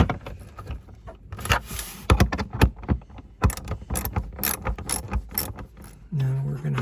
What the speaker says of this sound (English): put in our 7mm screws in the back